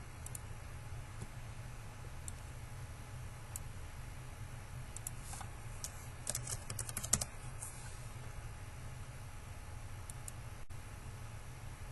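Faint typing on a computer keyboard in a quiet room: sparse, light key clicks that briefly cluster into a quick burst partway through.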